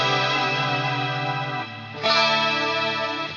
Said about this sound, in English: It's like a 12-string emulation in the Fractal, where the pitch block's set up